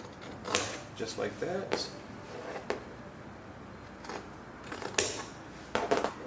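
Scissors snip the fabric corners of a sewn men's vintage jumpsuit in a few short, crisp cuts spread through the clip, with a person speaking briefly between them.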